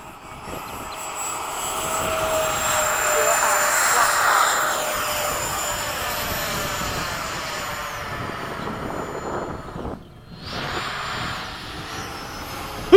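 An FMS 80mm Hawk RC model jet with a faulty right aileron servo takes off at a flying field, its electric ducted-fan whine building into a loud, steady rushing roar that fades slightly as it climbs away.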